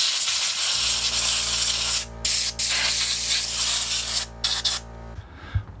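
A can of compressed air blasting dust out of unused PC ports, loud close hissing sprays in several bursts, a long one and then shorter stuttering pulses.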